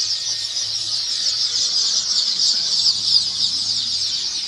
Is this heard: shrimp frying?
no